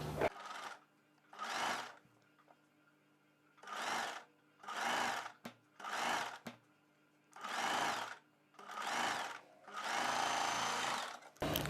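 A sewing machine runs in about eight short bursts while stitching the seam of a prince-cut kurti, whirring steadily through each burst with brief pauses between them, close and fairly quiet.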